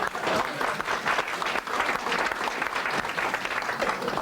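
Steady, dense applause from a roadside crowd for a cyclist at the Circuit des plages Vendéennes road race in Brétignolles-sur-Mer, 1991, continuous and fairly loud throughout with no break.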